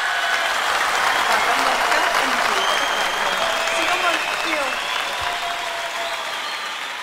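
A large live-show audience at a concert breaks into loud, sustained applause, a dense crackle of clapping with faint cheers and voices mixed in, tapering slightly toward the end.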